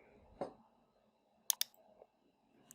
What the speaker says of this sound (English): So, I am clicking on project to go to the backlog.